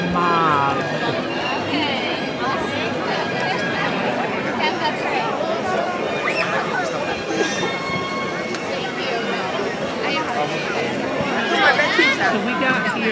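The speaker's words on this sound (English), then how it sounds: "trying to show you this crowd" Dense crowd chatter at Magic Kingdom as people wait for the fireworks, many overlapping voices close by in a continuous busy murmur with individual speakers standing out.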